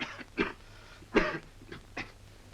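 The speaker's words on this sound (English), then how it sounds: "That's a terrible cough." A few harsh, breathy coughs come in short bursts, one stronger than the others, separated by quiet pauses.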